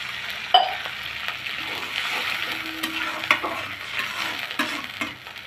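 Potatoes with ginger-garlic paste sizzle in a pan after a splash of water goes in, a close, even hiss with occasional spatula scrapes and clinks against the pan, and no one speaking.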